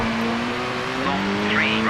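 A Subaru rally car in a Colin McRae racing game, driving on wet gravel: a steady, loud engine drone that holds a pitch, then shifts down as the gears change, with a brief rising whine near the end.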